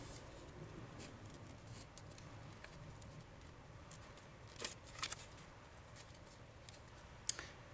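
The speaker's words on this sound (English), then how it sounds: "So I'm just going to cut out my turtle" Scissors snip a stamped turtle shape out of a Post-it note, giving faint, sparse close cuts against a quiet room.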